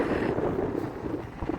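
Wind buffets the microphone by a bay in Dildo, Newfoundland, a steady low rumbling gusty roar with no talk.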